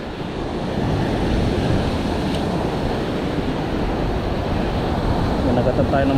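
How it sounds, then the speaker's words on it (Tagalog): Strong ocean waves surge and roar steadily at a fishing spot at sea, with heavy wind buffeting the microphone in a dense, continuous wash of noise. "Lakas na alon mga master."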